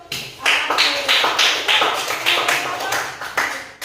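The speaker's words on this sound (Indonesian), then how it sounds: "Tepuk tangan dulu untuk" A small group in a classroom gives rhythmic, fairly loud applause, with clustered claps pulsing steadily for about four seconds as a teacher leads students in praising a classmate.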